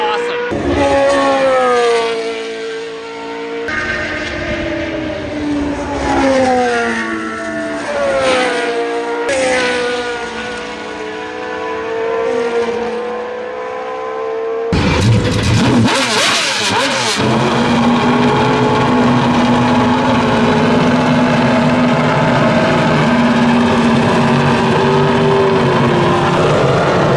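Formula 1 race car engines on a track, loud and close, with revving and rising, falling pitch sweeps as the cars pass and accelerate, then a steady roar. Loud engine noise runs throughout and nothing else stands out.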